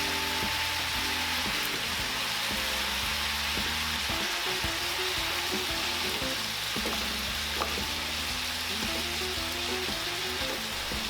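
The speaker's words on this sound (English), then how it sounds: "hamburger meat is almost brown" Hamburger meat browning in a pan for shepherd's pie gives a dense, steady sizzle like light rain, loud and even throughout, with occasional soft stirring and no voices.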